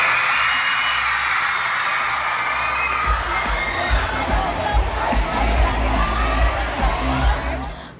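A large crowd at a Dolan Twins fan event screams and cheers continuously, loud and sustained, with shrill young voices and whoops swelling throughout.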